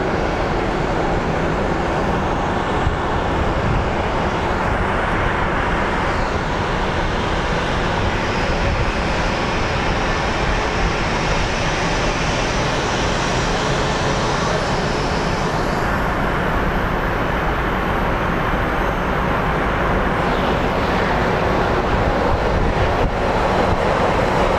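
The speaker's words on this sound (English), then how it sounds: "Watching this JSX taxi." A JSX jet taxiing at Phoenix Sky Harbor airport gives a steady, broad engine roar mixed with wind rumble, continuous and fairly loud throughout, with a faint rising whine near the end and no talking.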